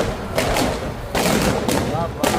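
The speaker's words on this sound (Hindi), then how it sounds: "तो यहाँ पर देख सकते हैं क्या भव्य आतिशबाजी हो रही है आसमान में" Fireworks burst in the sky over a crowded night-time street yatra, a dense run of loud booms and crackles over continuous crowd noise and music.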